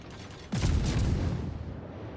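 Heavy naval gunfire in a World of Warships battle: a sudden deep boom strikes after a moment of quiet, then rumbles and decays over the following second or two.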